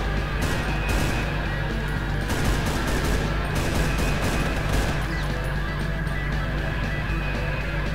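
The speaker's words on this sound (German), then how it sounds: "Ja, also bei Brutal Doom habt ihr immer Dauerfeuer aus beiden Rohren." Continuous gunfire from both barrels in the Brutal Doom video game: a loud, dense, unbroken barrage of rapid shots with crashing impacts, sustained for the whole stretch.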